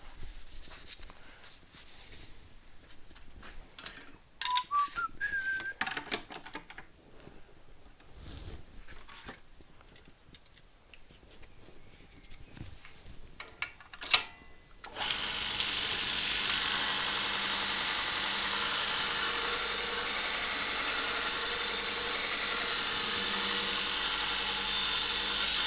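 A woodturning gouge is sharpened on a grinding machine: scattered clatter and knocks of handling, then a steady, loud, continuous grinding hiss with a thin whine that runs on unbroken.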